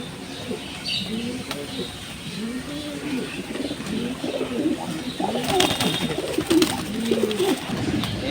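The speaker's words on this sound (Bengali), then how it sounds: "অলিম্পিয়াড ব্লাড লাইনের কবুতর এটা।" A male racing pigeon of Olympiad bloodline, a home-bred breeder in a loft, coos repeatedly in soft rolling phrases close by, with other birds chirping and faint wing flutters in the background.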